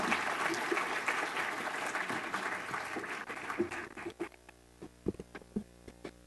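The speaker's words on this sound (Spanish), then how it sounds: "Un aplauso, por favor." Lecture audience applauding at a university event in Guadalajara, a dense round of clapping that thins out into scattered, separate claps before fading.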